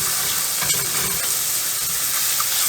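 Mushrooms browning in a frying pan for beef tips in red wine sauce, giving a dense, even sizzle with occasional soft stirring scrapes, loud and close, and nobody talking.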